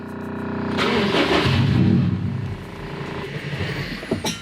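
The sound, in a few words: Subaru STI engine starting and dying without fuel pressure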